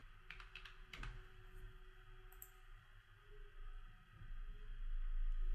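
Fingers typing a password on a computer keyboard, a quick run of soft key clicks in the first second or so, then fainter scattered taps over low steady room hum.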